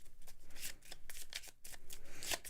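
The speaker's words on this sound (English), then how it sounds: "We're going to shuffle this up." Arkham Horror card game cards are shuffled by hand in quick, repeated riffle bursts, close and crisp, with a short gap midway and no talking.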